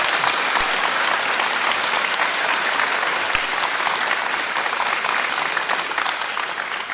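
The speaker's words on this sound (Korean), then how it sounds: "다시 한번 큰 박수 부탁드리며" Sustained applause from a church congregation at a priest's first Mass, a dense, even wash of many hands clapping continuously at full volume for the whole stretch, with no speech over it.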